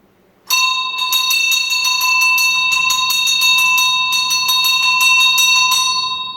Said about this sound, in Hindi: दोस्तों, अभी अभी मैंने घंटा बजाया है।